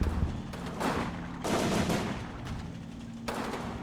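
Bursts of gunfire from the wartime tactics video game Combat Mission Downfall, several rapid automatic volleys separated by short pauses, fairly loud and sharp.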